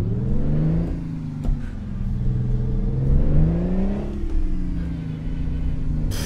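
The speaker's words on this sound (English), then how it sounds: "this is a high revving engine" A Kenworth W900A truck engine in American Truck Simulator revs high and steady, its pitch sweeping up and down in waves with a low rumbling drone underneath, loud and close.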